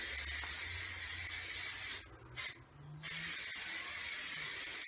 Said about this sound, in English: I can't even feel this stuff coming out. The spray's too weak.